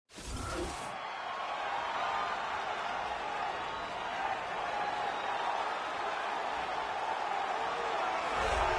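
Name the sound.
arena crowd cheering in UFC 3 video game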